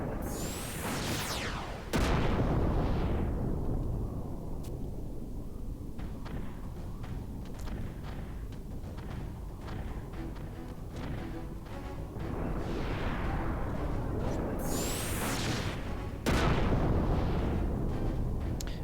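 Booming bursts and crackling firework explosions in Final Fantasy XI repeat over a dense rumbling background, with sharp whistling launches and loud pops at intervals.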